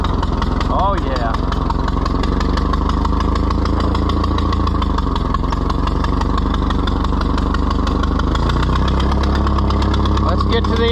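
A neglected Hoyt-Clagwell Ford 2N tractor engine runs loud and close for the whole stretch, a steady, rough, throbbing chug with slight shifts in pace.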